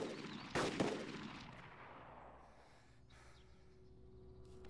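Pistol shots in DayZ Epoch: one sharp, loud crack, then a second closer report, with fading echoes into a quiet background.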